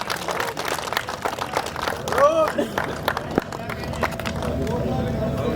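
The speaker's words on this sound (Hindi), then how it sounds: "जोरदार तालियां होनी चाहिए" Crowd clapping at an outdoor poetry gathering held during a religious fire ritual in Ahirauli, Buxar, a dense irregular patter with voices calling out over it.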